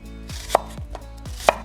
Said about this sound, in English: Now we're going to cut them into 1/4 inch thick slices.